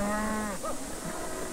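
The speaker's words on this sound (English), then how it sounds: "Thousands of head of cattle are bought and sold in these yards every day." Cattle at busy stockyards: one long, loud moo rings out close by, then fades into a mix of lower bellows and faint animal calls with a constant background hum.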